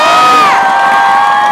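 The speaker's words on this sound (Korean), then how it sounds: "1번이 잘했다 박수." Crowd at a Korean professional baseball game between Nexen and Lotte cheering and shouting loudly, a dense roar of voices with whoops and children's shouts, close and sustained.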